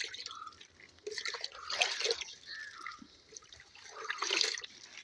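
Water is poured into a small neem oil mixture, faint trickling and dripping splashes arriving in short uneven bursts with quiet pauses between them.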